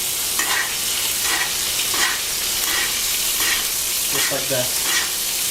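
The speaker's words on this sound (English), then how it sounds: "We're going to let this sear for about 2 minutes." Lamb searing in a hot pan, a loud, steady sizzle and crackle that runs without a break, with brief stirring scrapes and a short spoken remark over it.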